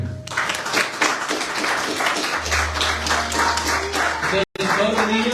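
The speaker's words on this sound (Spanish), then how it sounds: "Vamos a darle un aplauso al Señor" A church congregation applauds together, sustained dense clapping with voices mixed in, ending in a brief cut.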